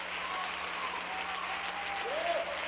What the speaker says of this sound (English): give him a good clap offering.